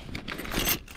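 A bunch of keys jangles close by while a door is locked at home, a soft, continuous metallic rattle lasting about a second with no talking.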